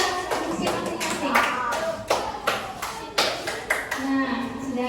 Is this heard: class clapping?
yes